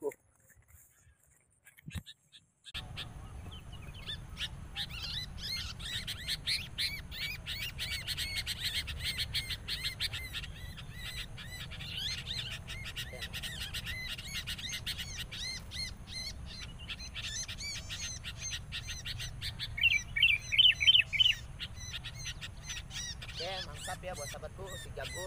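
A wild sooty-headed bulbul calls in a rapid, insistent run of chirps while a trapper's lure bird answers, the busy chatter carrying over a steady low hum and swelling louder near the end.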